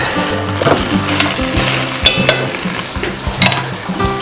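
Garlic halves sweating in a pan for a risotto, giving a soft steady sizzle with stirring scrapes and light clinks of utensils against the pan, close and continuous with no talking.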